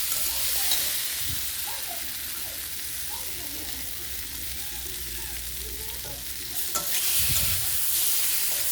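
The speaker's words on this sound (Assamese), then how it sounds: "মই অমিতা আৰু আলুখিনি মছলাখিনিৰ সৈতে 1 মিনিট টাইম ফ্ৰাই কৰি ল'লোঁ।" Papaya and potatoes frying with spices in a pan, a continuous hissing sizzle with soft stirring scrapes and a few low bumps, close and even in level, without speech.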